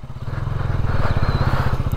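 A KTM Duke 200 motorcycle engine runs steadily and close by, with a rapid, even firing pulse that rises slightly in loudness partway through, heard alone without talk.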